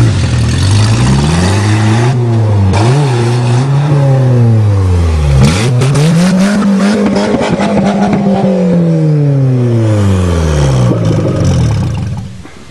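A 1994 Volkswagen Jetta engine screams close and loud while driven hard uphill, rising and falling through repeated revs in a strained, droning climb before it cuts off near the end.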